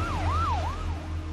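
An ambulance siren wails in slow rising and falling sweeps behind a car, heard over a steady low road hum.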